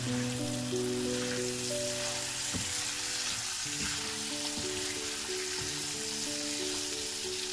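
Cut tomatoes frying in hot oil in a pan give a continuous, even sizzle and crackle with a low steady hum underneath, and no voices.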